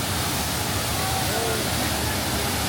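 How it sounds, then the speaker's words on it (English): Dense, steady roar of a waterfall in Bali, broadband and continuous, fairly close with no breaks. "that's the waterfalls"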